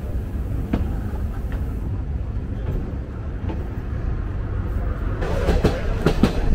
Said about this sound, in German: fahren jetzt mit diesem Tram zurück nach Sóller.